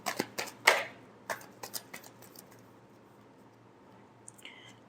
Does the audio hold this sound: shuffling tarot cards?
yes